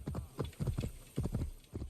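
A horse in Assassin's Creed Origins trots along with clear, close clip-clop hoofbeats in quick uneven pairs, loud and distinct against a quiet background.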